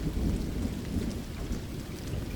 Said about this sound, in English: The rumbling of the thunder mixed with the roar of the water